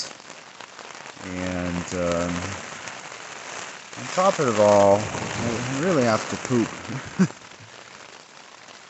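Steady rain hisses on a foggy hiking trail near the Middlebury ski lift, a constant wash of drops from start to finish while someone talks over it and breathes audibly.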